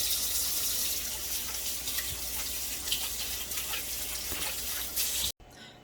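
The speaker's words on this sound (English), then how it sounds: "Let me wash my hands" Hands are washed under a running kitchen tap before making Maryland crab cakes, a close, steady splashing stream with small bursts of water that stops abruptly near the end.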